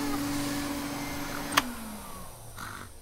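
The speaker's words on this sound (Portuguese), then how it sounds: "É só um aspirador de pó." A vacuum cleaner running at night in a Peppa Pig cartoon hums steadily and faintly at a distance, its motor winding down after a brief click.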